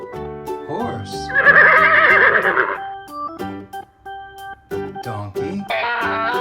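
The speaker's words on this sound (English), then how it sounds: "Horse." A toy horse's recorded whinny plays loud and close, a rising, shaky neigh lasting over a second, with a cheerful music jingle around it.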